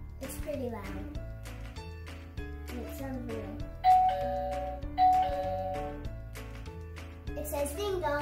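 A toy dollhouse doorbell chimes a ding-dong twice, bright and fairly loud, with a short gap between the two rings. Musical tones and a voice run underneath.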